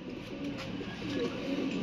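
Low, soft pigeon cooing repeated a few times, fairly close but quiet, over a dull background hum.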